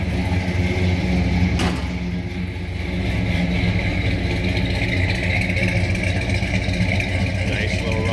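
A 1970 Dodge Super Bee's 383 V8 idles at the rear of the car, a continuous low throbbing rumble, fairly loud, with a brief sharp click early on and no speech.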